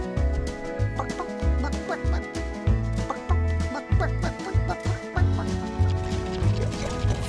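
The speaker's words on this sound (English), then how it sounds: "Little brown chicken in her hen house painted blue." A little brown hen clucks in a farm henhouse, a busy series of close, rhythmic clucks and squawks repeating steadily with no voice over them.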